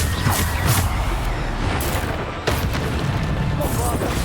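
Blasts from the Bombarda explosion spell in Hogwarts Legacy hit in repeated booming bursts, loud and close, with a voice calling spell names in between.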